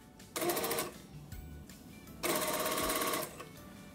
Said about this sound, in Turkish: Şimdi koltuk altı dikişinde kolumuzun çıtını bedenin koltuk altı dikişine getirerek kolumuzu dikmeye başlıyoruz